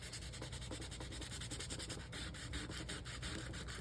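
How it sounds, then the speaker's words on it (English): A handmade mini bookcase being hand-sanded with 240 grit sandpaper to dull its shine, quick rhythmic back-and-forth rubbing strokes, close and steady. "I'm just going to use some 240 grit sandpaper. Just take some of that shine off."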